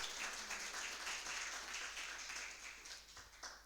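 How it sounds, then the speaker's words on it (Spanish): Scattered clapping from a church congregation during a sermon, faint and distant, a steady patter of hands that thins out toward the end. "aplaude ahí si quiere"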